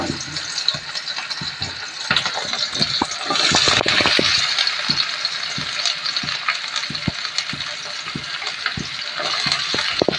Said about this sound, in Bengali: পেঁয়াজগুলোকে একটু হালকা ভেজে নেব